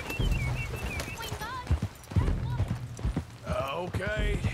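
Horses' hooves clip-clopping in an uneven rhythm of soft thuds, mixed with voices talking and shouting over them.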